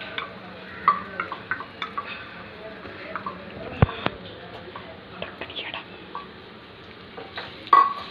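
Bengal gram flour being sautéed in oil in a nonstick kadai gives a soft, low sizzle under a series of light scraping and stirring taps of a spatula, with faint whispery voice in the background.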